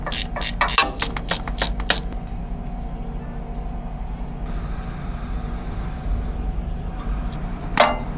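Quick burst of metallic ratchet clicks from a wrench working a bolt on a Scania truck, a rapid run of ticks followed by a low steady hum and one more click near the end.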